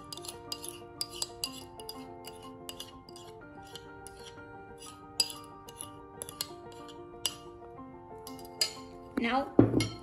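A three-capsicum salad being mixed in a bowl: scattered, ringing clinks and taps of a utensil against the bowl, quiet and close, growing busier and louder at the end.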